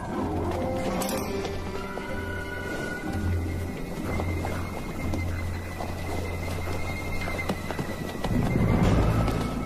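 Wild horses in West Africa whinny and snort over a steady clatter of hooves, with a louder, busier stretch near the end; no talking.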